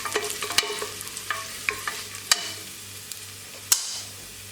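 Cashew nuts roasting in a pan for semiya payasam, a soft steady sizzle with sharp clicks and scrapes of a spoon stirring against the metal, close up, no voices.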